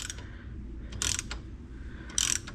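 A hand ratchet snugs up loose bolts on a John Deere tractor in two short, close bursts of rapid clicking, separated by a quiet pause. There is no talking.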